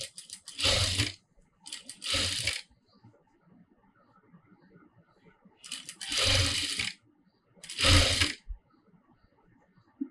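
Sewing machine stitching uncut cloth to join a sleeve, running in four loud bursts of rapid mechanical chatter, each a second or less long, separated by quiet pauses.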